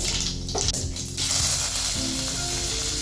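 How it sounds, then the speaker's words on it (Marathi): Mustard seeds and fenugreek seeds sizzle loudly in two spoonfuls of hot oil, a bright continuous crackling hiss with a brief burst of spattering near the start. "2 चमचे तेल घालते, त्यात 1 चमचा सासव घालते, 1 चमचा मेथी घालते"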